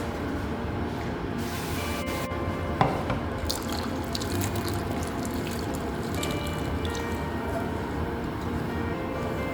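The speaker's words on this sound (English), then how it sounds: "And now I'm going to put in some hot water." Hot water pours steadily into a pan of Hyderabadi baby eggplant curry, a continuous splashing and trickling that runs the whole time, with a brief clink near the start.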